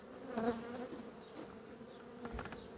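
Honeybees buzz steadily around an open hive during honey harvesting, a continuous close drone holding level throughout with no voices.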